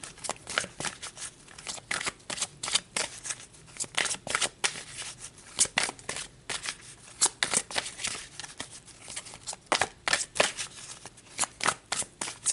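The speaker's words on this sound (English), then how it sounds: "So let's pull a couple of cards to get the highlights of this energy." Tarot cards shuffled by hand without pause, a brisk, close, crisp riffling and flicking that keeps a busy, uneven rhythm.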